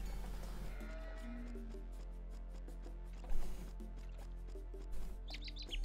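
Sheep bleat a few times in an Age of Empires style real-time strategy match, short wavering calls over steady game ambience with faint chirping birds and soft interface clicks.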